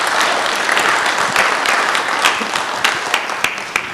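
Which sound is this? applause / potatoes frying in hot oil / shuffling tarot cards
applause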